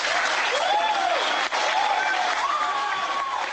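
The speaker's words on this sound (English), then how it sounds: "to the applause of attendees at Winter Soldier" Sustained applause from attendees at the Winter Soldier hearings, a dense, steady wash of clapping filling the room while a voice speaks faintly over it.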